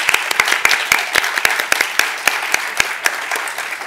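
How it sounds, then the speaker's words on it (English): An audience claps steadily, a dense, lively round of applause with sharp individual claps standing out. "a huge round of applause, of course, to the incredible Antonia Carver"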